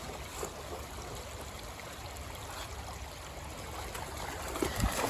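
Water trickles and splashes steadily in a shallow creek where a dog plays during summer gold panning, a continuous close babble with a few sharper splashes near the end.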